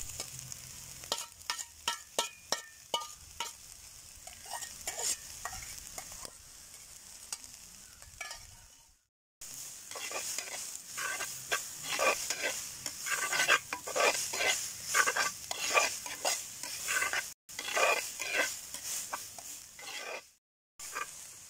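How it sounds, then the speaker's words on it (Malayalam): Chopped papaya for a Kerala papaya thoran is tipped into a hot pan and stir-fried, giving a run of sharp scraping stirs and steady sizzling that pause briefly twice before resuming, loud and close with no talk. "അരിഞ്ഞു വെച്ചിരിക്കുന്ന പപ്പായ ഇട്ട് കൊടുക്കാം."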